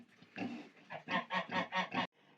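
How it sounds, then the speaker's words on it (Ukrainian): A sow gives a run of short, rhythmic grunts calling her three-day-old piglets to feed, about five in a row, close and fairly soft, followed by a quieter trailing grunt. "Свинка отак хрюкає особливим своїм голосом, зазиває поросят поїсти."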